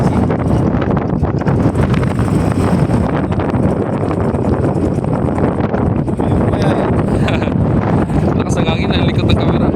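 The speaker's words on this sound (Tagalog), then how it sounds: "Lakas ang hangin, ang likod ng camera." Strong wind buffets the microphone in loud, continuous gusts, blowing from behind the camera at a seaside ship port in Lucena, with a voice talking faintly underneath.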